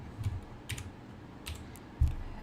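A few quiet, close keystrokes on a computer keyboard while entering code, scattered taps and soft thumps in a short burst.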